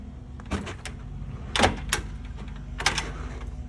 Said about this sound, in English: This door right here to the lanai, this is just where it was sticking. It's still sticking.